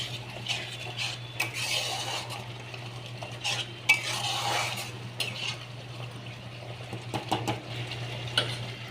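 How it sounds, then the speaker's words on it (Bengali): Spice paste frying in a pan for a potato and pointed gourd curry, stirred with a utensil in repeated scraping strokes and soft clinks over a low steady sizzle, close and alone. "মশলাটা একটু কষানো হোক"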